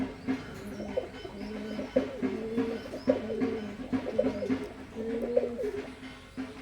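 Teddy pigeons coo repeatedly in low, throaty bursts, several birds overlapping close by with no talking.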